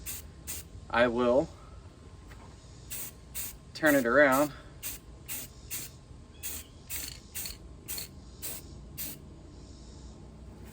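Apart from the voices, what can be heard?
spray painting a duck decoy black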